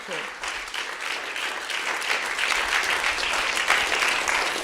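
Steady audience applause at a religious gathering, a dense wash of clapping that swells slightly and holds throughout, with a voice faintly underneath.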